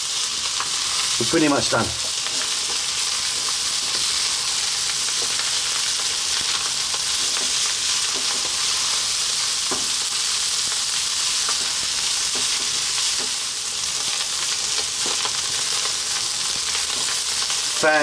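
Crab fried rice sizzling in a hot pan, a constant loud crackling fry throughout with occasional stirring scrapes and a brief spoken comment early on.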